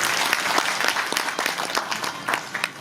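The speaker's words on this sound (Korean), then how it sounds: "수고해주신 최진호 교수님께 다시 한번 큰 박수 부탁드립니다" An audience at a public policy presentation gives a short burst of applause, dense, close clapping with individual claps popping out of the steady roar.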